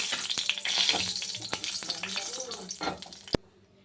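Nigella seeds sizzle and crackle in hot oil for a hilsa fish curry, a steady loud frying hiss with stirring clatter and a sharp knock near the end.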